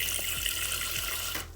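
A tap runs steadily into a sink to soak a paper towel, a close, continuous stream of water that cuts off abruptly at the end of a brief moment.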